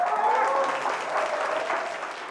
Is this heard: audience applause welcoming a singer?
yes